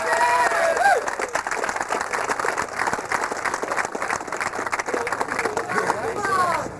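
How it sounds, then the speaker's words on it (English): A crowd claps steadily for several seconds at an off-road racing track during the 1991 2WD Off-Road World Championships, with a few voices rising at the start and near the end. "Please give a round of applause to my father."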